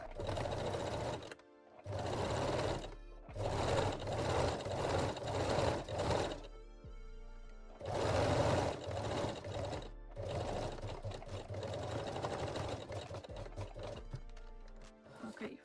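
A sewing machine runs a long straight stitch on a lace bralette in several rapid, whirring bursts separated by brief pauses, close and clear.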